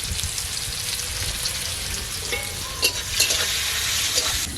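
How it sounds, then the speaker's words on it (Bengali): Potatoes seasoned with salt and turmeric fry in hot oil, giving a steady, close, broadband sizzle with a few brief stirring scrapes near the end and no talk. "নুন হলুদ দেব, দিয়ে আলুটাকে ভালো লাল লাল করে ভেজে নেব।"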